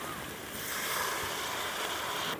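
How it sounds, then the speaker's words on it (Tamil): Water pours steadily into a pan of potato and green pea curry with salt and turmeric, a rushing hiss lasting about two seconds, close and fairly loud, with no talking. "போதுமான தண்ணி ஊற்றிக்கலாம்."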